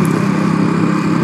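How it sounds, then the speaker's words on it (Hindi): An auto rickshaw engine runs steadily along a road with a continuous, buzzing mid-pitched drone, loud and close, with no voices over it. "अभी देखो ऑटो आ ही गया, मतलब इस रोड में गाड़ियाँ चलती हैं।"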